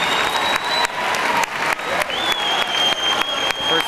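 Concert crowd clapping and cheering for a band at a live show, a dense sustained wash of applause with a few sharp whistles cutting through.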